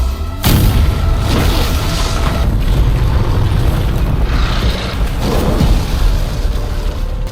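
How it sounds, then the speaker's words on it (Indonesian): A deep, rumbling nuclear bomb blast roars continuously, dense low-end booming with wind-like turbulence swelling and surging throughout, no voices. "Ledakan kali ini lebih besar dari ledakan 2 bom nuklir sebelumnya."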